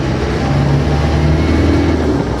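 A 1995 Land Rover Defender 90 with a 300 Tdi diesel engine drones loud and steady from inside the cab, with a low rumbling hum that holds constant over a short stretch.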